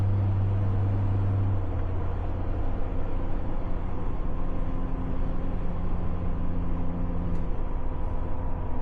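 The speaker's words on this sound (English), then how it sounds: "I hear more road noise from the tires than I do drone." Steady, loud low rumble of truck tires rolling on pavement at about 65 mph, a continuous broadband roar with faint engine tones from a 5-inch exhaust underneath.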